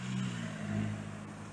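A car rolls into a road intersection in Yachimata, Chiba, its engine a faint, low rumble swelling slightly and then easing, heard from a distance with no talk.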